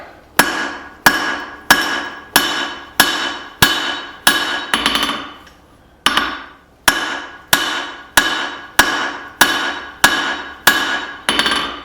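Hammer blows forging a steel billet into a double-sided axe, tapering and fanning out the bit: a steady series of sharp, ringing strikes roughly every half second, loud and close, with a brief pause midway before the rhythm resumes.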